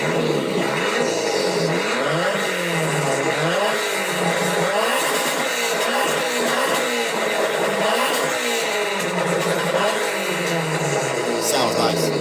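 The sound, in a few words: Nissan Skyline drift car engine chop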